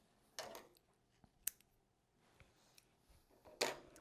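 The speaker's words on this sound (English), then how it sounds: "snip the thread on this guy" Scissors snip through yarn thread while finishing a craft pom pom, giving a few sharp, close clicks spread apart in an otherwise quiet room.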